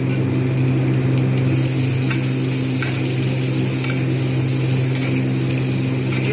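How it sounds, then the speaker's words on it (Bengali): Onion sizzles and fries in hot soybean oil in a pan, a loud, continuous crackling hiss close up, with a steady low hum underneath and no talking. "লালচে করে ভেজে নেবো পেঁয়াজটা একটু সময় নিয়ে।"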